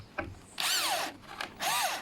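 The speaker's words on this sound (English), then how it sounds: "Then I will drill a screw approximately in the center." A power drill drives a screw into a wooden board in two short whirring bursts, close and fairly loud, the motor pitch rising and falling as the screw bites.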